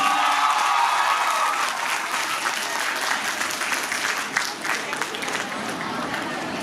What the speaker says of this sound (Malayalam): ഒരു കയ്യടി ചെയ്യാൻ സാറിന് കൊടുക്കണം